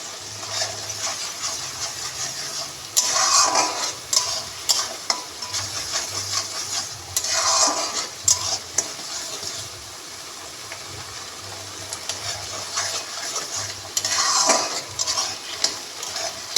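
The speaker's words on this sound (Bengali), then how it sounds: "মশলাটাকে একটু কষাবো ভালো করে।" Spice paste of ground onion and tomato fried and stirred in a pan, a continuous close sizzle broken by repeated scraping strokes of a spoon in an uneven rhythm.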